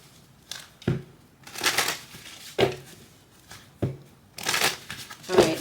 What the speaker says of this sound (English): So let me do a quick shuffle.